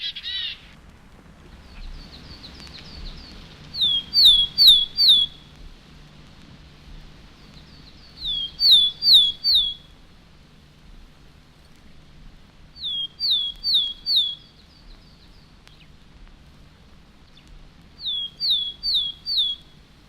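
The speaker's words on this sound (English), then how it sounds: "The willow tit has a rare song that I've heard sometimes in April. It's a slow series of loud, melancholy notes" Woodland birdsong of a willow tit: repeated bursts of four or five loud, high piping notes, each phrase about a second long, returning roughly every four seconds over a quiet low hum, with no talk.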